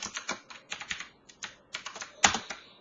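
Close, crisp keystrokes on a computer keyboard while R code is entered, with irregular clusters of taps and short pauses, plus one sharper, louder keypress near the end. No voices.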